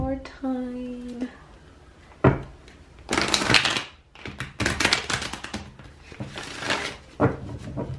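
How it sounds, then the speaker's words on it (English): Deck of tarot cards being shuffled at a reading table; a short tonal sound opens, then several papery riffling bursts and soft card slaps follow close by, with a voice briefly present. "gonna shuffle one more time"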